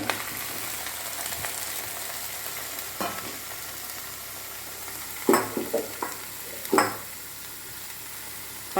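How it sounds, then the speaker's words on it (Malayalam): Cleaned cauliflower florets tossed into a hot pan for a Kerala-style thoran, a steady low sizzle with a few sharp stirring clatters in the middle and later, no voices. "ക്ലീൻ ചെയ്ത് വെച്ചിരിക്കുന്ന കോളിഫ്ലവർ അതിലേക്ക് ഇട്ട് കൊടുക്കാം"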